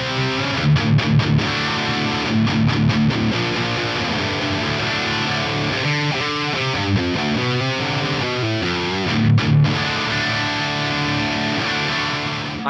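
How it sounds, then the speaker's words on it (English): PRS DGT electric guitar on the bridge humbucker in drop D through a 5153 100-watt Stealth amp with plate reverb: heavily distorted, chugging high-gain riffing with palm-muted rhythmic stabs and ringing chords, loud and alone. "I have a PRS DGT on the bridge humbucker in drop D, the 5153 100 watt stealth blue amp"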